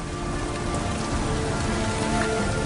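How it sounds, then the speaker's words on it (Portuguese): Rain stands in for the slow liquid-methane rainfall on Titan: a loud, dense, continuous patter of drops hitting a surface, steady throughout with no voices. "em Titã, a chuva não é de água, mas de metano líquido que cai lentamente"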